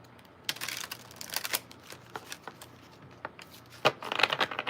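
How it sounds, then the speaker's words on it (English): Quick papery riffles and flicks of cards being shuffled, a run of soft crisp bursts with short pauses, close by and fairly quiet. "Last shuffle."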